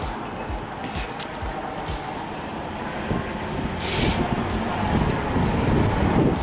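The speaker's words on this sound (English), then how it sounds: "Let this car go past, then you can hear me." A car passes on a road near a railway, its broadband rumble and tyre noise swelling toward the end of the clip, near and fairly loud, with no talking.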